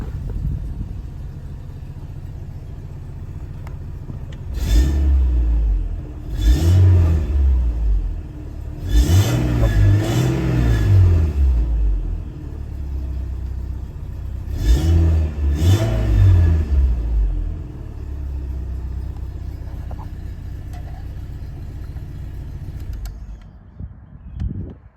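A 1998 Volkswagen Cabrio's engine rumbles at idle, then revs up in three or four smooth throttle blips that rise and fall before it settles back to a steady hum.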